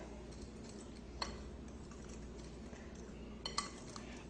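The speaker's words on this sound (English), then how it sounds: "Whisk those dry ingredients together." A whisk stirs dry baking ingredients, including baking powder and salt, in a bowl, making a faint, steady scraping hiss broken by a few light metallic clinks against the bowl.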